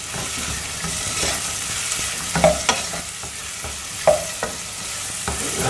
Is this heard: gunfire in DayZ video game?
no